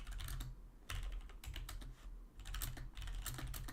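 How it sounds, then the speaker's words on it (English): Keys clatter on a computer keyboard in quick, close bursts separated by short pauses, a busy run of rapid keystrokes with no voices. "I'm typing it out right now."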